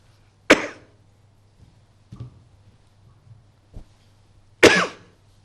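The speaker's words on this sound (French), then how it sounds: "il faut tousser dans le creux de son coude ou éternuer dans le creux de son coude" Two sharp, distinct coughs into the crook of the elbow, a few seconds apart, close and clear against a quiet room hum, with faint small sounds between them.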